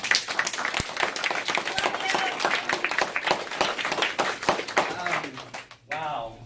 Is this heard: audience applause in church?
yes